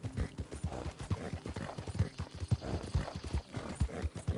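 Horse hooves galloping in Red Dead Redemption 2 make a steady, rhythmic clip-clop that stays close and fairly loud throughout, with no talking over it.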